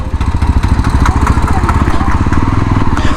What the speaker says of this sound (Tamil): பிக்கப் எடுக்குது பார்த்தீங்களா, அதுலேருந்து அப்படியே கண்டினியூ ஆகிட்டு டார்க் அப்படியே கண்டினியூ ஆகிட்டு